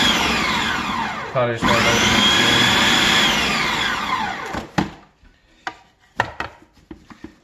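A blender pulses a sweet potato and black bean burger mix: a loud motor whirs, cuts out for a moment, then runs again before stopping, followed by scattered clicks and light handling noises. A voice speaks briefly.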